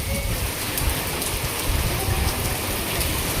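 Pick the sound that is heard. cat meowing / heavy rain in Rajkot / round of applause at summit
heavy rain in Rajkot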